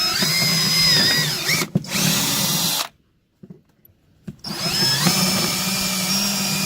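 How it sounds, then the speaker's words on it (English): A power drill bores holes into aluminum while a diving board is installed, running in two loud sustained bursts separated by a brief silent pause. "Now drill the last two holes."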